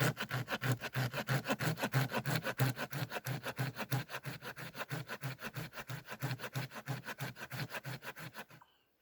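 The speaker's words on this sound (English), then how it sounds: "The teeth right now are so gummed up that it's almost completely quit sawing." Silky Pocketboy folding saw cutting through resinous fatwood, a steady run of rhythmic push-pull rasping strokes, close and loud, with teeth gummed up by sap, ending abruptly near the close.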